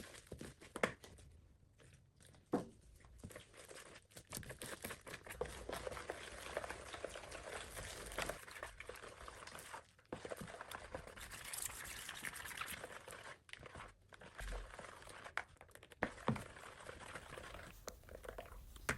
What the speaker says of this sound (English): I began by mixing joint compound with water.